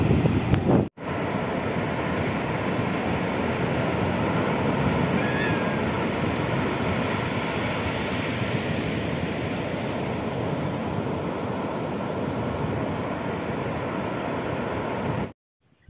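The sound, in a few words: rough sea waves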